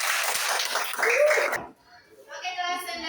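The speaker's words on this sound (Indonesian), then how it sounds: "Oke, tepuk tangan dulu." Primary school class clapping hands in an elementary classroom in Ambon, a burst of applause mixed with children's voices before it breaks off, followed by a teacher speaking.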